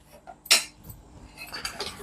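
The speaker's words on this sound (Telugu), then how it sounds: "గిన్నె అడుగంటకుండా కలుపుతూనే ఉండాలి" A spoon stirring milk in a pot for fruit salad, with one bright metallic clink followed by softer scraping taps against the vessel, close by and without talk.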